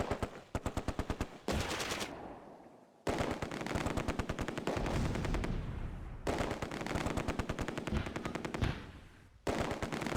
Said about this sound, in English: Fire switches back to the MG42 in the 3-story building.